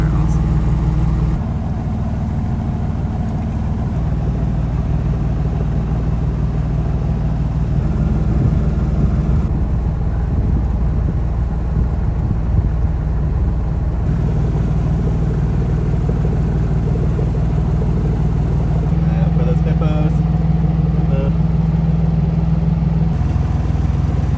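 A sailboat's inboard engine drones steadily while motoring up the Gambia River in West Africa, a constant low hum with slight shifts in pitch and a brief rise near the end.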